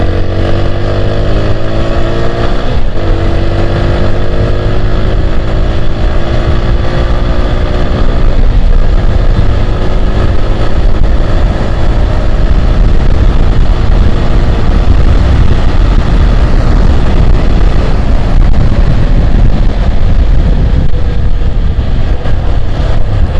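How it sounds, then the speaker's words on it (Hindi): A motorcycle engine drones steadily at high speed, around 95 km/h, rising in pitch as it accelerates, with constant wind rush over the whole ride. "बाइक को थोड़ा स्पीड खींच के"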